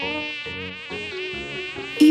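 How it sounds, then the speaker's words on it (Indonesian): A high, steady mosquito whine hums close by for about two seconds, rising and falling slightly in pitch, with a brief louder burst at the very end. "Ibu mencoba menangkap nyamuk dengan mengikuti suaranya."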